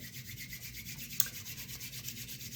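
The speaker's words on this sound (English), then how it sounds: "So one that's my favorite is actually just rubbing your hands together." Palms rubbing together during a grounding exercise, giving a steady, soft, continuous swishing friction with a gentle repeating rhythm, close and quiet, with one brief sharper rub partway through and no talking.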